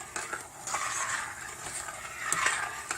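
A spoon stirs oyster mushroom risotto in a pan, soft continuous scraping and wet swishing with light clinks, fairly close and quiet.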